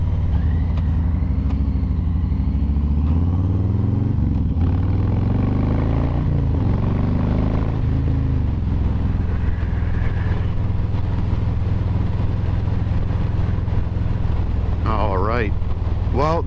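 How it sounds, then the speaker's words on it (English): Motorcycle test ridden around town on a first ride after the snow melted, engine revs rising and falling through gear changes under heavy, constant wind rush. "even if it's just test riding this bike around town for now"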